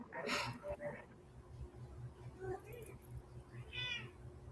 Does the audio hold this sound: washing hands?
no